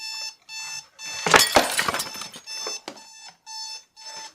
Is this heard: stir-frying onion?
no